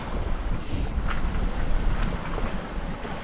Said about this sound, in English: Very, very changeable, the wind at the moment.